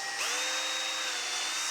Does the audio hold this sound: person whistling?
no